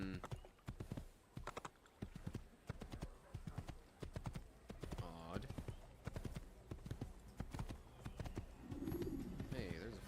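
Horse hooves clip-clop in the video game Assassin's Creed, with a rapid, rhythmic trot and a few bird coos. A person speaks briefly over the hoofbeats.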